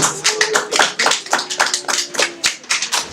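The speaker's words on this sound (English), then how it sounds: "let's give a big round of applause for this" Clapping at an awards ceremony, sparse and uneven with individual hand claps clearly separated in a loose rhythm rather than a dense crowd roar.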